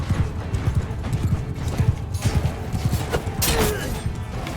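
Horse hooves clip-clop in a rapid galloping rhythm during a medieval battle in Mount & Blade II Bannerlord, with thuds and clatter of combat layered over the steady hoofbeats.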